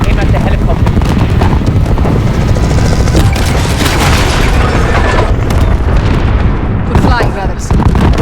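A helicopter crashes and explodes during an airbase assault in Call of Duty Modern Warfare, giving loud, dense booming blasts and rumbling debris that continue for several seconds, with game dialogue running underneath.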